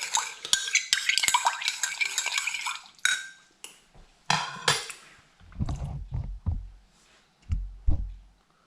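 A spoon scrapes butter chicken sauce from the sides of a jug in a series of short, close clinks and scrapes, with bright metallic strokes early on and duller thuds later.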